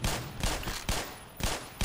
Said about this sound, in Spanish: Ah, que son disparos.